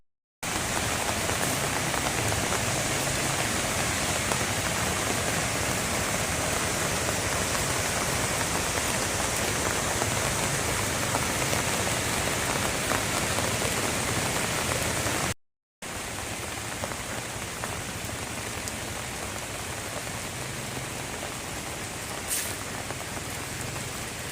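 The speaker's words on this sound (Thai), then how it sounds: "เสียงน้ำตกก็ ดังกระหึ่มทั้งคืนครับ ทั้งฝนทั้งเสียงน้ำตกปนกันไป" Heavy rain pours steadily onto a tent at a campsite by Pha Daeng waterfall in Thong Pha Phum, mixed with the constant roar of the falls, a dense, even wash of water noise with a brief break partway through.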